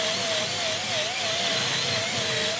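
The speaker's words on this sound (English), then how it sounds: "It's a wax buffing brush, which really makes it light work, so you can buff it a lot quicker" A rotary wax buffing brush polishes carved wood furniture with beeswax polish, giving a steady, loud, whirring motor hum with a slightly wavering whine and a constant brushing hiss throughout.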